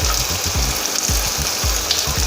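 Vegetables and spring onions frying in a little oil for momo filling, a steady close sizzle with faint low bumps from the pan, no talking.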